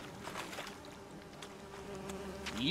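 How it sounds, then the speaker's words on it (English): Bees buzzing in The Witcher 3: Wild Hunt, a steady faint insect drone with soft game ambience and a few brief clicks, no talk over it. "Fuck you, bees."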